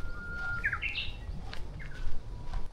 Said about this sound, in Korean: 맑고 아름다운 새소리를 들으며 걸으니 제주 숲 한가운데 들어온 기분입니다